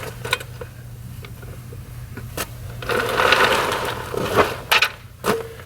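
Clanks and ratcheting clicks from lug nuts being tightened on a VW Mk7 GTI's winter wheels, a few sharp metallic knocks standing out over steady background hum.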